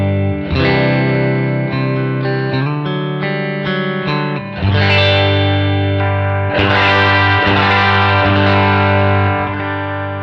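An MJT Tele with Porter vintage Tele pickups in the middle position rings out clean through a Helix Princeton Reverb amp model, strummed chords sustaining and changing across several bars, alone with no talk.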